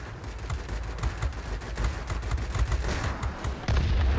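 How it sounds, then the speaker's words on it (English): Rapid cannon fire from a Vulcan cannon during aerial combat in the World of Warplanes game, a dense, sustained burst of loud staccato shots with booming impacts, continuing the whole time and growing heavier near the end. "I don't want to be on the receiving end of that Vulcan cannon"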